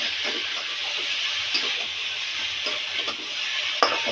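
Boiled elephant foot yam with dry Kashmiri chili powder is stirred in a hot pan, a steady sizzle under repeated soft scraping and clinks of the spoon, close and moderately loud.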